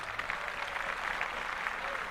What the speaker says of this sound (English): let's clap that up for Women's History Month